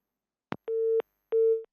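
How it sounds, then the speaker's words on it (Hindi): Busy tone after a dropped phone-in call to a broadcast, heard as a short click followed by two steady electronic beeps of equal length separated by a brief silence, clear and alone. "लाइन ड्रॉप हो गई है इनकी भी।"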